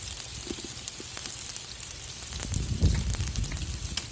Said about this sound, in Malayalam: സവാള ഇട്ട് നന്നായി ബ്രൗൺ ആവുന്ന വരെ വഴറ്റി കൊടുക്കാം